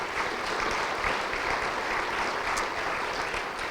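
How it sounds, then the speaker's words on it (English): Audience applause at a partnership awards celebration, a steady broad wash of clapping that holds at an even level throughout, alone with no talk over it. "So if you could give them a round of applause,"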